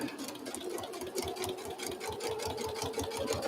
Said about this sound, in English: just sew right on the actual solid line, which is the stitching line